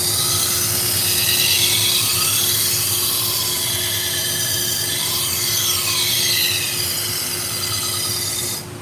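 Steady, loud grinding hiss of a BBQ knife being sharpened freehand on a powered sharpener, a continuous abrasive rasp with a faint hum underneath and slight sweeping changes as the blade moves, no talking.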